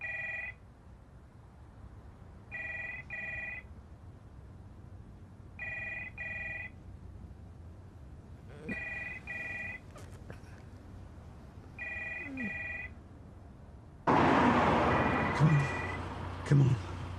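A telephone rings in repeated double-trill bursts about every three seconds, five rings going unanswered at moderate volume, before a loud, rough noise swamps the end.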